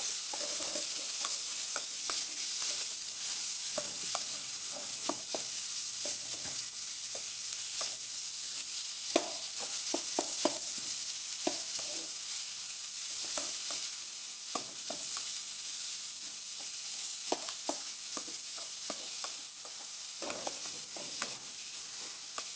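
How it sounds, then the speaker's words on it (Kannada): Onions frying in a pan over a medium flame for chicken gravy, a steady sizzle with repeated utensil scrapes and stirring clinks throughout, no talking. "ಮೀಡಿಯಮ್ ಫ್ಲೇಮಲ್ಲಿ ಇಟ್ಕೊಂಡು ಫ್ರೈ ಮಾಡ್ಕೊಳ್ಳಿ ಈರುಳ್ಳಿನ"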